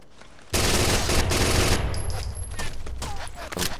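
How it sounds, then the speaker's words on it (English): Gunfire in the Rainbow Six Vegas 2 co-op terrorist hunt on the Kill House map, a sudden loud burst of shots that stays dense and sustained, fading slightly with scattered later bursts. "Taking fire, I'm not sure where from."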